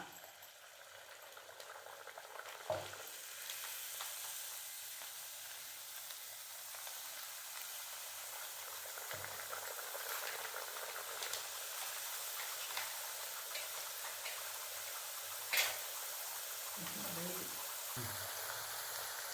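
Pepper thattai, flat rice crackers, frying in hot oil, a faint continuous bubbling sizzle with occasional soft knocks, a voice speaking quietly at times.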